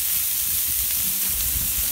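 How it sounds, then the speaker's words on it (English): Food sizzles in warmed oil on a Camp Chef flattop grill, a loud, continuous frying hiss with faint stirring and scraping underneath. "get it a nice sizzle on everything"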